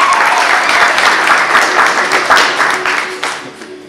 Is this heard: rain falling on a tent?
no